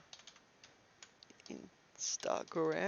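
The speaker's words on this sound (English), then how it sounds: "Sorry, my typing is rubbish today." Irregular keyboard clicks tapping away at a moderate pace, close by, with a person starting to talk near the end.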